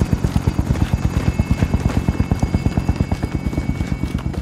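Helicopter in the video game Warzone heading back to base, its rotor giving a loud, steady rapid chopping pulse that runs unbroken and close throughout.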